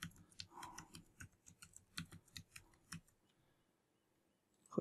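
A password being typed on a computer keyboard: about three seconds of quick, uneven keystroke clicks, close and fairly quiet, followed by near silence and one final click.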